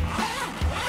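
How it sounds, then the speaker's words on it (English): A zipper on the cover of an Iceco overlanding fridge is pulled open in two quick rasping strokes, close by and moderately loud, with no talk over it. "There's the zipper."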